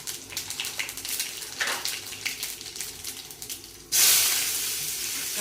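Mustard seeds and cumin drop into hot oil for a Karnataka-style lemon rice, bursting into a loud, sustained sizzle midway after quieter, uneven clattering and hiss.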